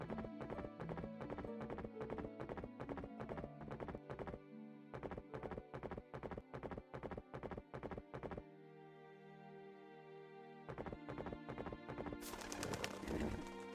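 Rhythmic hoofbeats of a horse being ridden in a video game, a steady loud clip-clop with brief pauses, a short neigh-like break, then hooves resuming before a burst of noise at the end; no talking.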